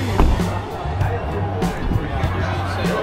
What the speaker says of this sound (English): Wow, look at this crowd.